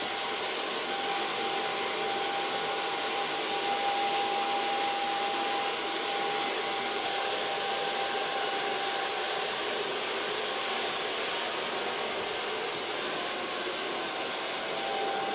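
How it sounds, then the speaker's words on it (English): A hair dryer blows in a constant, loud whir while blow drying hair with a brush, with a faint steady whine running through it the whole time and no talking. "Start blow drying with also Kiona blow dryer."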